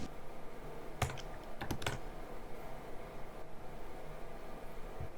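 Keys tapped on a computer keyboard while entering terminal commands, a few quick close clicks in two short bursts over a faint steady hiss, with no voices.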